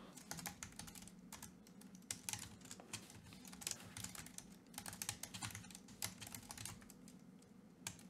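Continuous rapid typing on a computer keyboard while writing code, fast irregular clicks of keys at close range, steady throughout with no voices.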